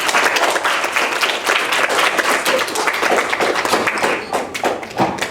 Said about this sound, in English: please give a round of applause for a Final Nude Gun